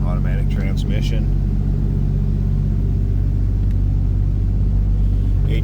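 A 1961 Plymouth Fury runs just after a cold start, a steady, loud low rumble of the engine throughout, with a few brief clicks over it.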